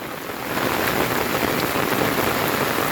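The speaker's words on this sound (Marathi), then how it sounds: "आणि पावसाने पण आता परत जोर धरला आहे बघा" Heavy monsoon rain pours steadily beside a flooded tidal river in rural Konkan, near Rajapur, a dense continuous hiss that swells to full strength after the first half-second and keeps roaring without a break.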